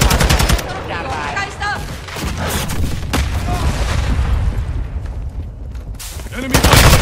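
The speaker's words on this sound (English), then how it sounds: "Enemy fire!" Modern Warfare 2 Hardpoint match on DRC Zone 1 with a TAQ 56 rifle: loud automatic gunfire bursts and rapid shots crackle up close, with brief voices in between and a heavy burst again at the end.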